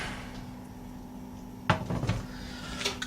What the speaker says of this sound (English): 12-inch Lodge and a 10-inch Lodge.